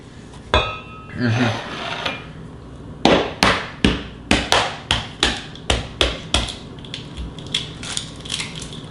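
Eggs are cracked for chocolate chip cookie dough, a series of sharp close taps and knocks in a quick irregular rhythm, with a brief voice near the start.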